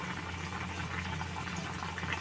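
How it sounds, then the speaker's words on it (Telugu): Brinjal, potato and drumstick curry bubbling steadily in a pot after water is added, a continuous close simmering hiss with soft liquid bubbling and a low steady hum underneath. "కూర ఉడుగుతుంది కదండి వాటర్ పోసుకున్నాం కదా మనం అది కొంచెం ఎగిరే వరకు ఉడకనివ్వాలి"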